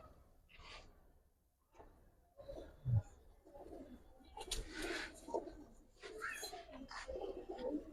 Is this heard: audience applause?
no